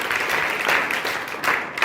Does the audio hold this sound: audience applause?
yes